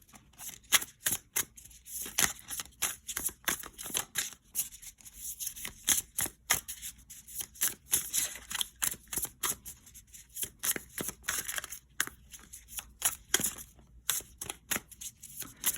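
Steady, rapid riffling and flicking of tarot cards up close, repeating in quick bursts with soft slaps throughout.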